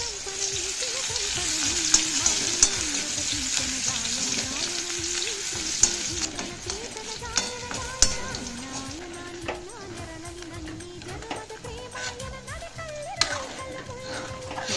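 Garlic cloves frying in hot oil for a tamarind-flower dish, a continuous bright sizzle with occasional stirring clinks and scrapes, close and steady throughout.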